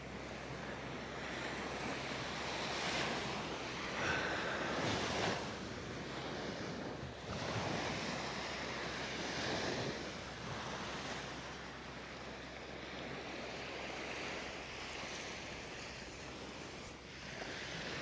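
Ocean surf rolls steadily onto the beach at Blowing Rocks Preserve, a broad washing roar that swells and fades in slow surges, with some wind buffeting the microphone.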